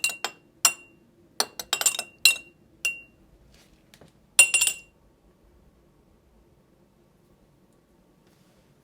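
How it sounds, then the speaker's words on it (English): A spoon clinks against a glass while stirring a Manhattan cocktail, in a series of sharp, bright taps, some in quick clusters, then stops and leaves near silence. "dip the spoon about halfway through, just coat it, and then stir that into the drink"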